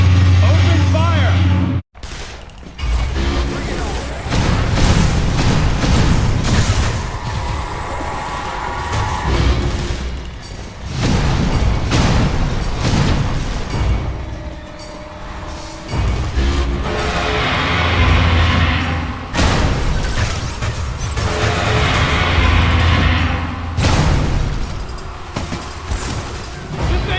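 Combat in the Metroid Other M video game: loud, dense gunfire and booming explosions form a continuous heavy mix after a brief drop near the start, with voices now and then.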